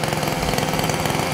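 A HobbyKing Titan RC monster truck runs with a loud, steady, buzzing engine drone that holds constant throughout, with no talking.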